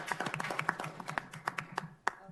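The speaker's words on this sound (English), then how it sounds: "I want a round of applause for staff on that water." Brief scattered round of applause at a city council work session, a few people clapping quietly in an indoor room, uneven claps fading out after two seconds.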